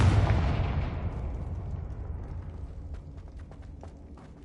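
A Confringo fire spell is cast in Hogwarts Legacy and bursts as one loud, booming blast. The blast fades into a long rumbling tail, with faint scattered crackles near the end.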